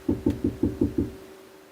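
Six quick, evenly spaced knocks on a car's driver's side window, hollow and fairly close, followed by a quiet pause with no voices.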